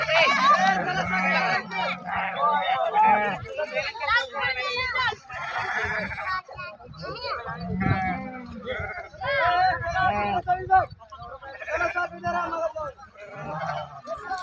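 Sheep bleat repeatedly while the flock is bathed in the Bhima river at Gursale, with the calls rising over a steady crowd murmur and people talking throughout.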